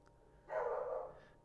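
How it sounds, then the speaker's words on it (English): A single dog bark, faint and muffled as if from outside, rises briefly above quiet room tone. "I can hear a dog barking outside."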